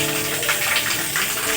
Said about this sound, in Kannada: ಇಲ್ಲಿ ಬರ್ತಿದೆ ನೋಡಿ ನೀರು ಎಂಟ್ರಿ